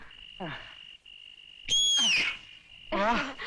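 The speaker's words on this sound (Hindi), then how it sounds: "अगर सीटी बजानी है तो जरा स्टाइल में बजा" A person whistles at a film scene: a steady high tone runs throughout, with sliding whistled notes rising and falling over it, under brief bursts of other voices and sounds.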